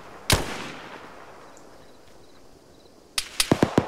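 Arma 3 gunfire cracks out in the game: one loud close shot, a long fading echo, then a quick burst of four or five shots near the end.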